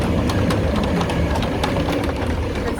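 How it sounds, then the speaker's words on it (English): A train at Meadowbank station rumbles steadily, a loud continuous low engine and rail noise filling the scene, with no one speaking over it. "That's the train."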